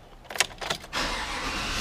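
A Chevrolet Silverado truck starts: a couple of brief mechanical whirs and clicks, then the engine catches and settles into a steady, close idle.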